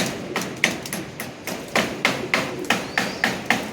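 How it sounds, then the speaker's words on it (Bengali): A mason hammers at construction work near a pigeon loft, about ten sharp knocks in an uneven but steady rhythm, each ringing briefly over a low background murmur. "দাদার বাড়িতে যে মিস্ত্রি কাজ করছে, ঠুকঠাক আওয়াজ হচ্ছে"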